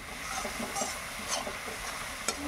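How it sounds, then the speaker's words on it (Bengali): Spice paste with chilli powder sautéed in oil in a pan for a lentil dumpling curry, a continuous soft sizzle with light scraping and stirring knocks, one sharper clink near the end. "এবার দেখো এটাকে সুন্দর করে কষাবো, ভালো করে কষিয়ে"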